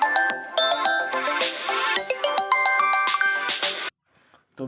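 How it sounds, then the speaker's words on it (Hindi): A mobile phone rings loudly with an incoming call, a bright melodic ringtone of repeated chiming notes for nearly four seconds that cuts off into sudden silence during a Hindi exam lesson. "वो फोन को आने के कारण थोड़ा डिस्टर्ब हो गया।"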